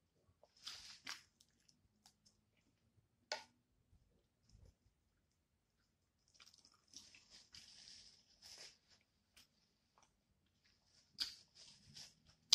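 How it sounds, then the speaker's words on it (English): Close crunching and wet chewing of crispy rotisserie chicken skin come in scattered bursts with pauses between bites, quiet and near. "Y'all hear this crunch? This skin is crunchy."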